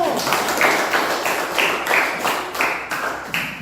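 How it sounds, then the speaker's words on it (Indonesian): A classroom of students clapping hands together in rhythmic bursts, a steady run of sharp claps lasting a few seconds, close and fairly loud. "Tepuk tangan dulu."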